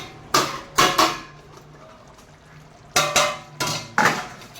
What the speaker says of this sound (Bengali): এই বন্ধুরা ঢাকনা খুলবো